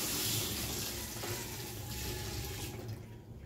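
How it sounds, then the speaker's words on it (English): Lobster rinsed clean under a running kitchen tap, a steady close splash of water that continues throughout before easing slightly at the end. "So I wash my lobster"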